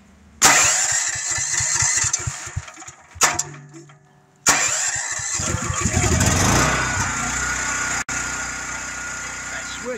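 A motorcycle engine on a sodium-ion starter battery cranks briefly, stops, then cranks again and fires, settling into a loud, steady idle nearby with a sharp click near the end.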